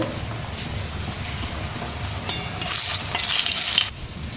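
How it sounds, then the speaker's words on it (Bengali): Bengali lentil dumplings (bori) fry in oil in a wok, a close, low crackling sizzle that suddenly swells into a loud, hissing burst for a second or so before dropping back. "ওই কড়াইয়ের মধ্যে আমি আর একটু তেল দিলাম ওই লাবড়ার মশলাটা করার জন্য। এটা সম্পূর্ণ নিরামিষ, বড়িগুলো ভেজে নেব।"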